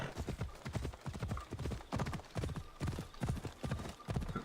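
Horse hooves clip-clop steadily in Assassin's Creed Odyssey, a fast, even rhythm of close, loud footfalls on hard ground that runs unbroken through the whole stretch.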